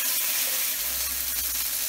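Venison steak sears in an oiled cast iron pan with a steady, close, hissing sizzle and no voices.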